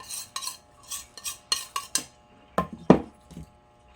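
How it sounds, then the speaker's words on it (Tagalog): A spoon scrapes and clinks against a bowl or pan while sauce ingredients are mixed for a lapu-lapu dish, a series of short, close, uneven taps and stirs with no voices. "ipang-mix na natin to lahat guys para sa ating sauce"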